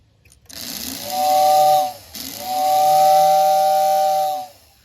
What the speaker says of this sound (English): There we go. It whistles.